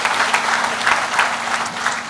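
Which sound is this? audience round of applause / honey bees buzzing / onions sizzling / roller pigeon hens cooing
audience round of applause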